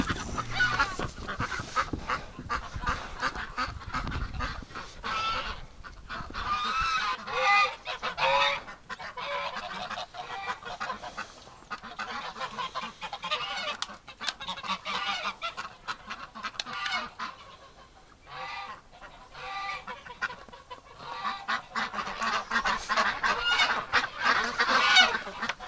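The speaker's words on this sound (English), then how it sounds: "One single goose here is with the others." A flock of geese in winter honks almost nonstop, loud and close, with many overlapping calls and a few brief lulls.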